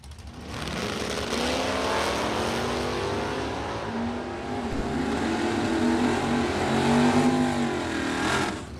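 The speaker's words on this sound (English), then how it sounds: "Frank Kraus, 82 Firebird. Longtime Pro ET racer up against Joe Gagliano, the 70 Nova SS" An '82 Firebird and a '70 Nova SS launch side by side in a Pro ET drag race, their engines roaring loud and close in a sustained, rising howl that swells toward the end of the run.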